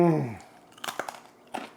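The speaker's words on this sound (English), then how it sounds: "That crispity crunch of the bacon." Close chewing of crispy bacon follows a brief vocal sound, with a few sharp crunches and bites in quick succession.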